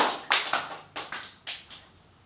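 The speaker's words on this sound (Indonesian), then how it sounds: "Tepuk tangan pada kelompok kedua." Classroom clapping for the second group during a micro teaching session, a short run of about six sparse, separate hand claps, near and fairly soft, with no talk.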